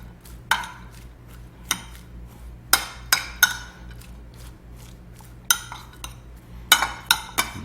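A utensil clinks and scrapes against a bowl while coleslaw seasoned with black pepper is mixed, with sharp irregular clinks spaced about a second apart over a low steady room hum.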